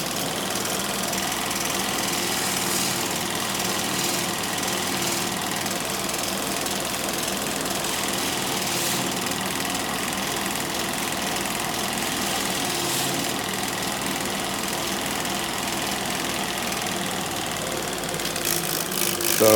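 A grinder motor runs steadily and loudly while polishing the heel of a golf club, with a constant buzzing drone and no pauses.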